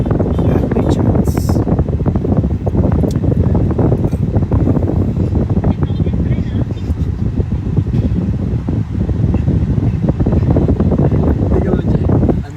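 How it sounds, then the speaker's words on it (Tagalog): Car air conditioning blowing straight onto a microphone inside a hot car, a loud, steady buffeting wind rush with rumbling gusts throughout, with a person speaking underneath. "Ang hangin sis, medyo nakatapat kasi sa akin yung aircon"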